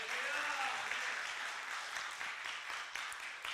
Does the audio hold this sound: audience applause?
yes